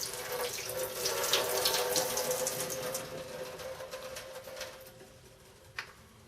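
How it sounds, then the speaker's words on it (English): Water runs from a tap and splashes into a can of chickpeas, a steady hissing pour that gradually fades, ending with a small drip or knock. "I'm going to just pour some water in the can just to kind of get them a little extra clean."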